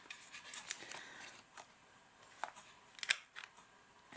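Scissors trimming the corners of a journal page, a few sparse crisp snips and clicks, quiet and close, scattered irregularly with pauses between cuts.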